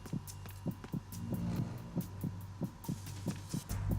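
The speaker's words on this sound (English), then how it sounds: "Heartbeat's a nice touch." Heartbeat effect from Metal Gear Solid 2 thumps in a steady paired lub-dub rhythm, low and pulsing over a faint hum, repeating evenly with no talking.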